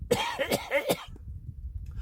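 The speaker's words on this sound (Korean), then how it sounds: "봐봐, 벌써 기침하는 거." A cluster of four or five harsh coughs in quick succession, close and loud, followed by quiet room noise.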